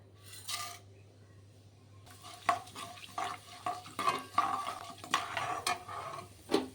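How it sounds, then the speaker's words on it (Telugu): Chana dal, urad dal, mustard seeds and cumin tempering in hot oil, with a short burst of spitting, then a run of sharp pops and crackles over quiet background, with no talking. "ఆయిల్ వేడెక్కింది కదా శనపప్పు మినపప్పు ఆవాలు జీలకర్ర"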